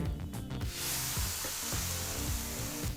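Ground tomato and cashew paste hits a hot pan for an okra (bhindi) gravy, bursting into a loud, steady sizzle and hiss after a few quieter kitchen knocks.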